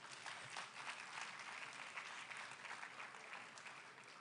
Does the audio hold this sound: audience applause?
yes